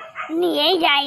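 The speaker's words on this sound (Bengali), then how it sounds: "কুকুরগুলো আবার ডাকছে।" Dogs bark and yelp close by in a short, loud burst, overlapping with a man's speech.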